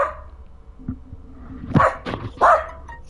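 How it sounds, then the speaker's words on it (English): A dog barks indoors, a few sharp close barks and yips after a quieter stretch, loud and with no talking over them. "What are you barking at, Pack?"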